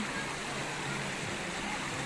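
A clear freshwater river near San Jose del Monte, Bulacan, rushing and burbling in a steady, full, close wash of water with no other sound and no talking.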